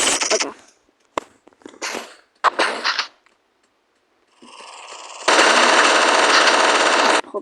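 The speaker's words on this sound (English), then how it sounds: "Yeah, the double minigun." A double minigun fires in a video game: several short, loud bursts of rapid gunfire with brief gaps, then a sustained two-second roar of continuous fire at the end.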